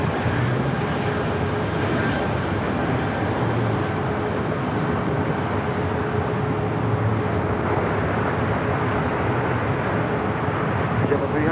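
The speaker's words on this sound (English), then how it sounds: "This Breeze now rolls down 25 right, heading back to Huntsville, Alabama" A Breeze Airways airliner rolls down runway 25 right at LAX for takeoff toward Huntsville, Alabama, a steady broad rumbling roar that holds evenly from start to finish.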